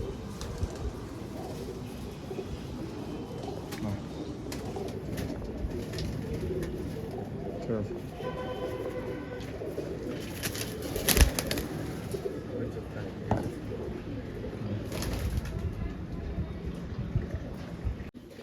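Pigeons cooing in a Kolkata loft, soft repeated low coos scattered through steady background bustle and faint noise, with occasional wing flutter and no clear talk.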